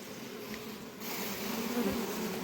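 Agitated honeybees buzz around their hives, a steady, dense droning hum that swells slightly midway and stays close and prominent throughout.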